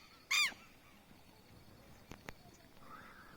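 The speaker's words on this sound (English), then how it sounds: "As you can hear the birds whistling past there." Outdoors by a terrace, a single loud, harsh bird call sounds once up close, followed by a couple of faint sharp clicks and a soft distant call against quiet ambient background.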